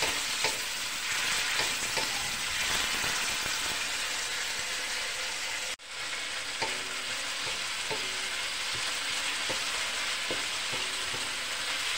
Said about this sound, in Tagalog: Kinuna ko munang iginisa ang bawang, sumunod ang sibuyas, luya, kamatis.